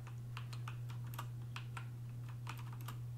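Slow, unhurried typing on a computer keyboard in a quiet room: about a dozen soft, close key clicks spaced irregularly over a constant low hum, with no talking.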